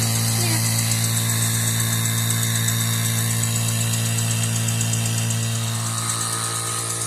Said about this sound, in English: It's a nice air compressor.